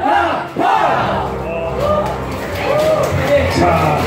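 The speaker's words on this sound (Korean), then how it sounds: "여러분의 함성과 함께 시작해보도록 하겠습니다" A dance competition audience roars at an ace match, with loud continuous cheering and shouting that swells and holds throughout in a packed venue.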